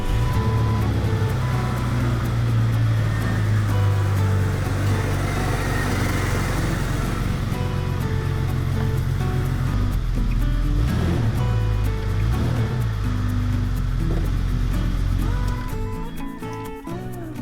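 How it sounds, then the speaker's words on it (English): A 1997–2001 Jeep Cherokee XJ engine idles steadily after a severe-duty ZJ fan clutch and fan shroud install, a continuous low mechanical drone that holds for most of the stretch before trailing off near the end. "Start it one more time, just make sure it's pulling air through correctly"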